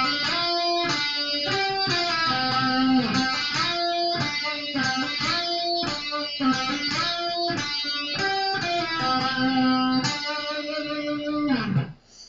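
Electric guitar plays the chorus riff of a song, a bright overdriven tone picking rhythmic repeated phrases with sustained notes and choppy stops, ending with a bend or slide down, played alone and clearly.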